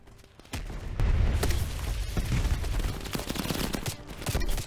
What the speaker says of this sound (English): give me a grenade launcher